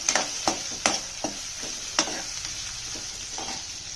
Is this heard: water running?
no